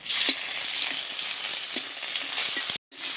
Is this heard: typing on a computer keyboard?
no